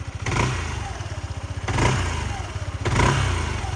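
A Yamaha Majesty 155 S scooter engine with stock factory exhaust idles and revs in three rising surges, a deep, throaty putter pulsing between them, close and fairly loud.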